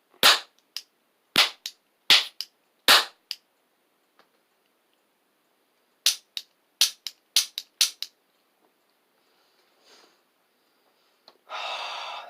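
Toy cap guns fire a series of sharp, loud cracks, first four spaced pops and then a quicker cluster of five or so, each snapping off cleanly, followed by quieter rustling and a brief hiss near the end.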